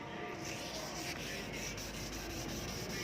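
Steady, close scratchy rubbing of wet sandpaper worked back and forth over a yellowed plastic car headlight, continuous and fairly quiet.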